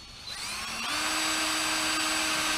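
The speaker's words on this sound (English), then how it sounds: "We're going to drill that hole and run that tubing." Power drill boring a hole through the hull of a 2019 Hobie Outback kayak, the motor spinning up from a quiet start into a steady, loud high whine held close by.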